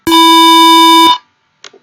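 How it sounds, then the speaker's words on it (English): An electronic push-button keyboard set to a square wave sounds one harsh, loud, steady buzzy tone for about a second, then cuts off, followed by a faint brief click. "You can also change the wave type to be a square wave"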